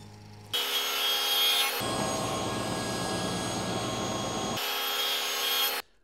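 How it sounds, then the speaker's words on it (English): A saw fitted with a 1/4 inch dado stack makes two passes through wood for a baseball ring display: a motor whine starts, a harsh grinding cut runs for about three seconds, then the blade spins freely and stops. "I've got a 1/4 inch dado stack in there, and I'm going to make 2 passes to get this cut"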